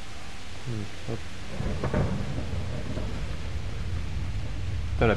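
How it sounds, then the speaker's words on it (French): Rain and thunder in the video game Kingdom Come: Deliverance, a steady wash of rainfall with low rumbling thunder rolling beneath it and a few brief knocks, heard alone without talk. "la pluie est pas mal quand même dans le jeu"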